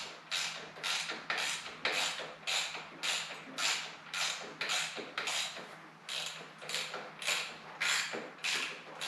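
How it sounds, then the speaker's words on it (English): A stuck bolt being worked out of a 1979 Harley-Davidson Low Rider Shovelhead 80-inch gives a steady series of close ratcheting, creaking strokes, about a dozen in an even rhythm, over a low hum. "see if we can get the rest of this bolt to pull out of there"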